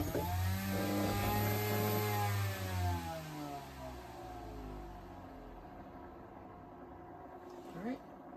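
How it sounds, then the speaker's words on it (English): The vertical spinner weapon of a combat robot spins up at half throttle with a rising, whirring motor tone that climbs in pitch, then eases off and winds down, while people talk nearby. "So this one's a vertical spinner weapon, the other was a horizontal."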